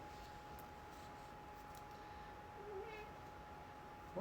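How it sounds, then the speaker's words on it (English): A cat lets out a single faint meow in a quiet room, a short soft call over low background hiss. "Why did you meow?"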